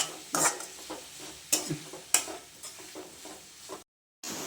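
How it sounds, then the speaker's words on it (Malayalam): Onions and crushed garlic are stirred in a pot while cooking biryani, a spoon scraping in a few sharp strokes over a soft steady sizzle, close and alone with no talk. "ചേർത്ത് നമുക്ക് നല്ലോണം ഇളക്കി മൂടി വയ്ക്കാം"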